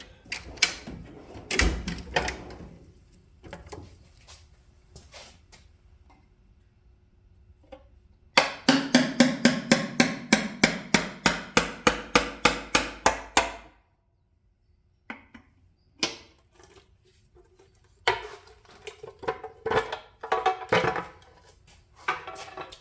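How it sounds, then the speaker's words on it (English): A rapid series of about fifteen sharp metallic hammer strikes on a chisel, loosening a seal on a Perkins engine, in steady rhythm, close and loud, with scattered knocks and clanks before and after. "Let's try to chisel and hammer that seal loose."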